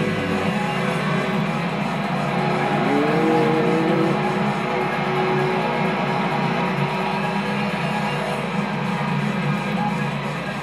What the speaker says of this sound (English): I just love this car engine